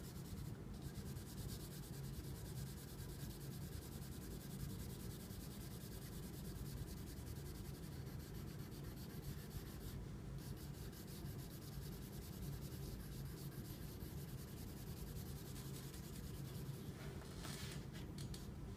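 Soft, continuous pencil scratching and rubbing on paper while hair is colored in on a drawn human face, faint and close with steady back-and-forth strokes.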